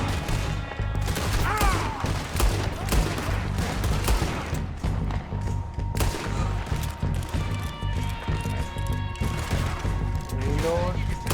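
Revolver gunfire in Red Dead Redemption 2 during a shootout with O'Driscoll gang members, with repeated sharp shots, some overlapping, against a busy game backdrop and someone talking over it.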